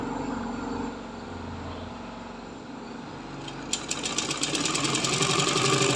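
A sewing machine runs steadily while stitching folded fabric edges for a jabla garment, a continuous close mechanical whirr that speeds up toward the end with a faster, rattling rhythm.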